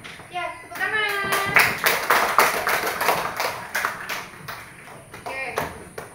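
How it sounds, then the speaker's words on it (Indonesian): A class of children clapping their hands in a burst of sharp, uneven claps that rises and fades over a few seconds, with a voice and talk mixed in at the start. "Ya, tepuk tangan."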